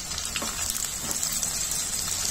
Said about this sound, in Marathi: हे सर्व साहित्य 1 मिनिटच मोठ्या आचेवर परतून घ्यायचंय